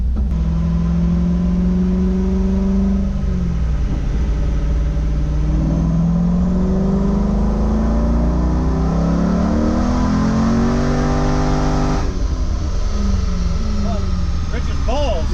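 A racecar engine revs up and holds under load on a dyno, its harmonic drone climbing steadily in pitch across a long pull, loud and continuous, with people talking over it and a brief dip near the end.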